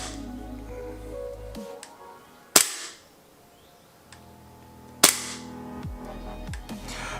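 An Umarex HK45 gas blowback airsoft pistol fires two sharp, loud cracks a few seconds apart, each with a short mechanical rattle from the slide, in an otherwise quiet room.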